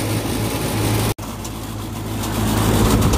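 An HVAC condenser fan motor runs at full speed with a steady, loud whirring drone and low hum, close by, broken by one brief dropout.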